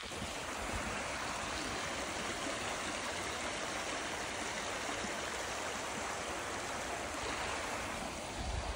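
Water rushes continuously in a stream in moorland terrain, a steady broadband wash at moderate level with no voices and no break in the flow.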